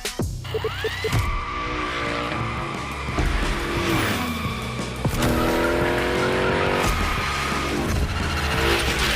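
A car slides through a gymkhana run in the video game The Crew Motorfest, its engine revving hard while the tires squeal in long, wavering shrieks, broken by brief shifts and throttle lifts, loud and close throughout.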